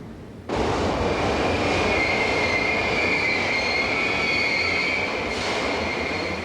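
An approaching train screeches loudly. A sharp, sustained metallic wheel squeal rides over a dense rumble and carries on for several seconds without a break.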